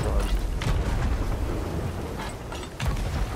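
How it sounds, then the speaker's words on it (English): Cannons boom repeatedly in a video game, heavy low thuds and blasts rising out of a dense, rumbling battle din with no clear pauses between shots. "They seem like Nessie cannons."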